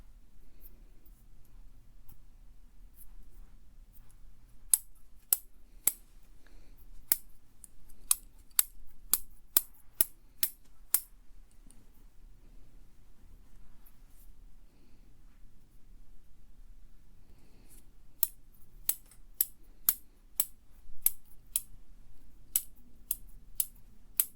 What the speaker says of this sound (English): It's these copper scissors.